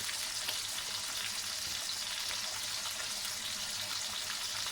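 Food frying steadily in a pan with a constant broadband sizzle, close and moderately loud, with no voices over it.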